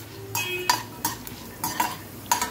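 Urad dal and dried red chillies roasting in groundnut oil in a pan, with a low steady sizzle broken by five short bursts of stirring and spoon scrapes, close and alone.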